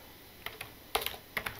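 A computer keyboard clicks softly as code is typed, a few short scattered keystrokes in quick little clusters, close by and fairly quiet.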